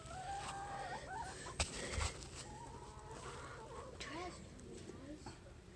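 Chickens cluck and call near a farm gate as they are let out, with people talking, footsteps and a brief thump mixed in throughout.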